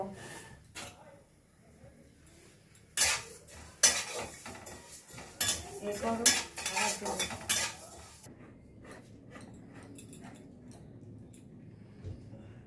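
Cumin, fennel and coriander seeds dry-roasting in a kadai, with bright metallic scrapes and clinks from a stirring utensil in bursts over a low background hum, then quieter after the stirring eases off.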